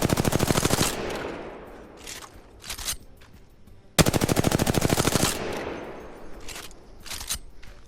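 R-301 rifle firing in Apex Legends, two loud close bursts of rapid automatic shots, each trailing into echoing tails with scattered shell and movement clatter between.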